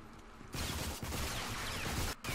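Rapid enemy gunfire in the video game Rage, a loud sustained burst of shots that starts abruptly and runs nearly the whole time with a brief gap near the end.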